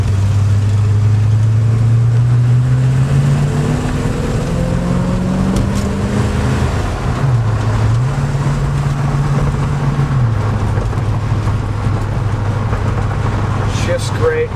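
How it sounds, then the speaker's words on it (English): A 1972 GMC 1500 Sierra Grande pickup with an automatic transmission drives down a road. Its engine drones loudly and steadily, pitch climbing and dropping as it shifts through the gears, over constant road rumble. "We'll go for a short drive down the road here."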